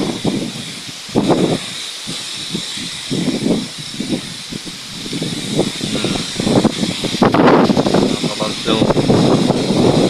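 Strong Typhoon Kristine winds in 2024 roar steadily through coconut palms and trees, a loud hissing rush that swells in gusts while someone talks excitedly over it.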